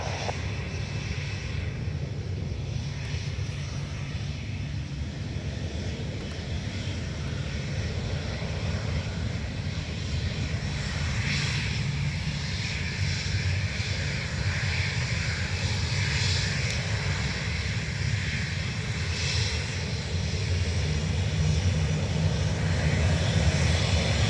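An Aer Lingus jet bound for Amsterdam at Dublin Airport, heard as a steady, broad engine roar that holds strongly for the whole stretch and swells slightly toward the end, with no talk over it.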